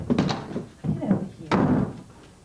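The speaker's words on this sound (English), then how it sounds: "you want to see how many times she slammed that door right in my face?" A washroom door is slammed shut repeatedly, with three heavy thuds about a second apart, each followed by a brief rattle, loud and close.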